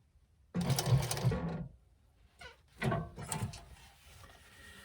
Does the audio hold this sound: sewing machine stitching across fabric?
yes